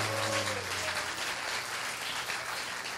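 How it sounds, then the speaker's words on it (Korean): Church congregation applause at a national leaders' camp service, a fairly quiet, steady wash of clapping, with a brief voice at the start. "우리 박수 한번 쳐주시기 바랍니다."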